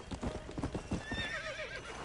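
A horse in Red Dead Redemption gallops with rapid, loud clip-clop hoofbeats, then gives a rising, wavering neigh near the end of the run.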